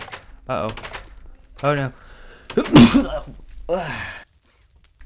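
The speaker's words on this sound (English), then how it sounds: "That was a sneeze." A single sharp sneeze bursts out midway through, loud and close, between short spoken exclamations from a man.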